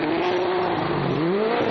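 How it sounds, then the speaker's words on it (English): Václav Pech's Mini rally car drives on a stage of the 2014 European Rally Championship in Austria. Its engine holds a loud, continuous high note that sweeps slightly as the revs change, passing close by. "Václav Pesch in the Mini, sounding fantastic still"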